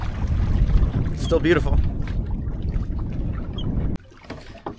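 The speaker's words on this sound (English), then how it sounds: "Just bear off from the course and then tack over like you're supposed to do when you're sailing" Windrider 17 sailboat moving through open water under sail, with steady broadband wash and wind rush throughout, a person speaking briefly over it, and the water noise dropping noticeably near the end.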